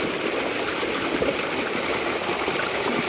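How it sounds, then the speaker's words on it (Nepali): Water flows steadily into a farm field during irrigation, a continuous close rushing and trickling that holds even and loud for the whole stretch, with no voices over it. "म चाहिँ यता पानी छ पुरा पानी देख्न सक्नुहुन्छ हेर्नु बाल पानी छ म चाहिँ पानी हाल्न जाँदैछु आफ्नो खेतमा"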